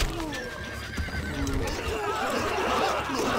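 Horse neighing in the video game Stronghold Crusader, a sharp whinny near the start followed by clip-clop hooves and busy battle noise that builds toward the end.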